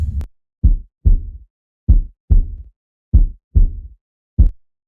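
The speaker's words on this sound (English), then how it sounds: "I think that's my heartbeat every time I hear that noise." Heavy, low heartbeat thuds in the horror video game In the Midnight. Each beat is a close double thump, repeating at an uneven pace over a silent background with no talk.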